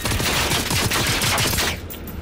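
Rapid, dense video game gunfire from a hunting-style game fills the clip with near, loud bursts of shots that taper off toward the end, with no voices.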